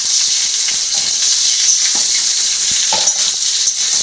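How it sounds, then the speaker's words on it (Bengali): Raw green mango pickle with turmeric frying in a pan, with a loud, steady hissing sizzle and occasional soft stirring scrapes underneath. "এর মধ্যে হলুদ দেবো, হলুদ দিয়ে নাড়াচাড়া করবো।"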